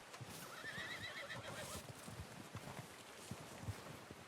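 Horse in Red Dead Redemption 2 whinnies in a drawn-out, wavering neigh during the first second and a half, then hoof clops and rustling ground noise continue at moderate level with no speech.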